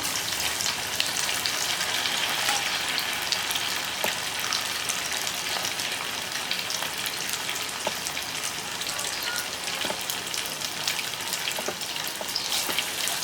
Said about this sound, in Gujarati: હવે મીડિયમ મીડિયમ સાઇઝના પકોડાને તળી લેવાના છે